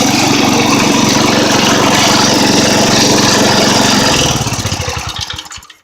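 A 1960 Sears riding mower engine with a screw-in muffler runs loud and close at a steady throbbing idle, then sputters and winds down with slowing pops until it stops.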